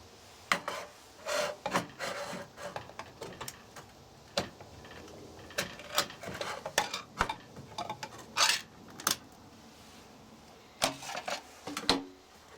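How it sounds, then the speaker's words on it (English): A package of Walmart pulled pork being opened at a camp cooking setup, with repeated crinkling, tearing and rustling bursts spread across the stretch, mixed with a few sharp clicks and knocks, close and moderately loud, no talking. "So I'm going to open the pulled pork."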